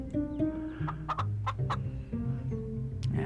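Chickens in the cozy idle video game Tiny Biomes cluck repeatedly in short, close bursts. Higher chirps are scattered among the clucks, and no voice is heard.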